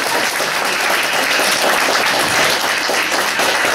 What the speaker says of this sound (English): Let's give Miss Tara McKinney a big round of applause